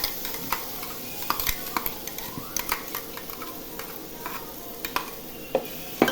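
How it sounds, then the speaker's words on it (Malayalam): A spoon stirs ground tomato with chicken masala and chicken stock in a pan over a steady low sizzle, with irregular sharp scrapes and clinks against the pan, close up and without talk. "ഇതിൻ്റെ പച്ച ചോയ മാറുന്നവരെ ഒന്ന് ഇളക്കി കൊടുക്കും"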